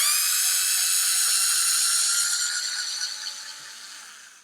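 A GoGonova cordless screwdriver backs out a screw with a steady high-pitched motor whine that holds for several seconds and then slowly fades, no voices.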